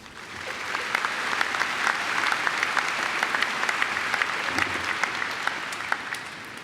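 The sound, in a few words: graduation ceremony audience applause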